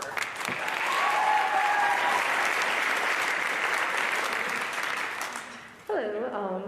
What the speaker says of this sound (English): You clap for her.